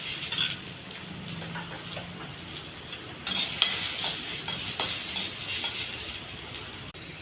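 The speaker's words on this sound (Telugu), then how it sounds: "ఇది కొంచెం త్వరగా వేగించాలండి," Millet stir-fried in a pan, a steady bright sizzle with scraping stirs and occasional utensil clinks against the pan, close and continuous without speech.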